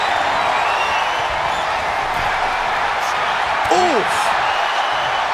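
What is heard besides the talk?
wrestling arena crowd cheering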